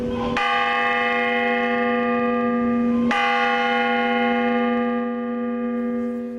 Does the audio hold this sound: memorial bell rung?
yes